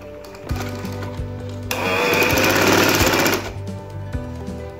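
A sewing machine runs a double line of stitching along the seat seam of a trouser back. It whirs up into a loud, steady burst of rapid stitching that lasts a couple of seconds, with softer mechanical ticking before and after.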